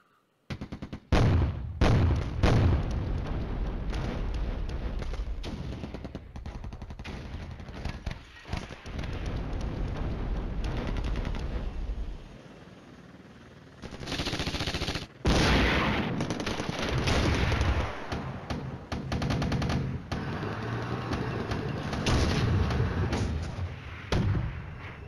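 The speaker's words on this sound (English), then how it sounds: "Shooting there on the side there." Battle noise in the wargame Flashpoint Campaigns: Red Storm, with dense, continuous gunfire and heavy artillery booms rolling on for many seconds, a brief lull in the middle, then renewed loud bursts and impacts.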